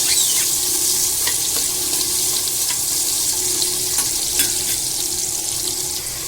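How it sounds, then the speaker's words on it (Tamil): Onions sautéing in a pan after bay leaf and spices, a loud continuous hiss and crackle up close, with occasional sharp pops throughout. "வெங்காயம் கொஞ்சம் வதங்கட்டும்."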